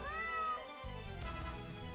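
A cartoon cat meows once from the Super Auto Pets video game, a bright rising-falling call over soft game music.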